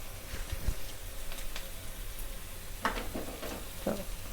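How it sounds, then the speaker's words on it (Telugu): Tempering spices for millet pongal sizzle and crackle in hot oil in a pan, with a steady frying hiss and a few sharper pops and spits, fairly close and moderately loud, with no talking. "పోపు ఎంత బాగా వేగితే పొంగల్ అంత టేస్ట్గా ఉంటుంది."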